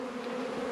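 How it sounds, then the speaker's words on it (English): A queenless honeybee colony on agricultural land buzzes in a steady, agitated drone, close and continuous with no pauses. "They do this sound like they're just buzzing, they're stirred up."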